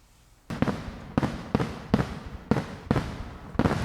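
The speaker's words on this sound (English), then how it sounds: "Boy, I love fireworks." Fireworks burst one after another in a steady series of seven sharp, loud bangs, each trailing off with a crackling decay, with no voices over them.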